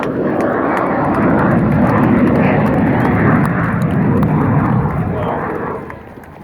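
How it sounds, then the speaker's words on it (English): An Alpha Jet performing an air show routine roars past loud and near, a broad sustained jet rumble that fades slightly at the end, with a commentator's voice over the public address. "Mark Peterson in the Alpha Jet."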